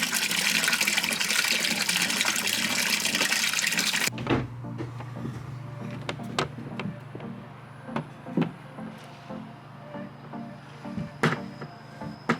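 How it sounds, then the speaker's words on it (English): An old spare bilge pump on a boat discharges collected bilge water, a loud steady gushing for about four seconds that cuts off abruptly, followed by quieter knocks and clunks. "We wired up an old spare one in the meantime to pump out the water that had collected"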